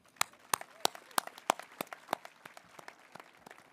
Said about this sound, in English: a round of applause for Principal Sperling, his team, everyone that played a role in making today a success